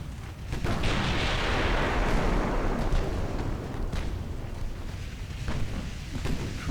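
Heavy naval guns, 15-inch battleship main batteries, fire in the naval warfare game Ultimate Admiral Dreadnoughts. The result is a loud, continuous rumbling barrage of booms with repeated sharp blasts layered over one another, and no talking.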